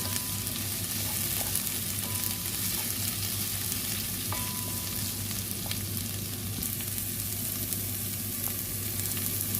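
Green chillies sizzle and crackle steadily in a hot pan, a continuous frying hiss with occasional faint clinks, close by and fairly quiet.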